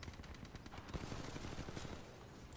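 Rapid SMG fire in the shooter Titanfall 2, heard as quiet, continuous automatic bursts that blur into a dense rattle within the game's background noise.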